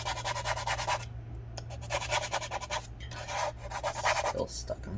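Adhesive residue scraped off inside a 13-inch early-2015 MacBook Pro A1502 during a battery and speaker repair: close, rhythmic rasping strokes in short bursts over a steady low hum.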